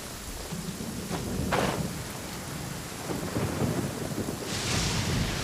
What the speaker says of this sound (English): Hey, it's just a little lightning.